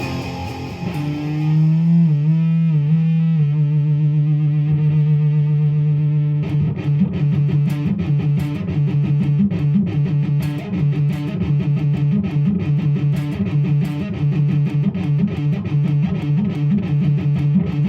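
A heavily distorted electric guitar plays the opening riff: a sustained, bending chord figure first, then a driving, rhythmic chugging pattern, loud and close with no voices.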